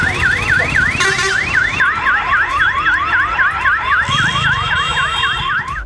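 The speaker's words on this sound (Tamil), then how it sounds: "சிறுநீர் கழித்தாலோ அலாரம் ஒலிக்கும் வகையில் ஆங்காங்கே சென்சார்கள் பொருத்தப்பட்டுள்ளன" Roadside sensor alarm set off when someone urinates in a public place blares a loud, continuous warbling siren that sweeps rapidly up and down for several seconds, alone without speech.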